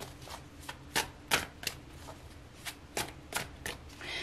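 A deck of tarot cards being shuffled during a reading, heard as a string of sharp, crisp riffles and slaps at uneven intervals over a quiet background.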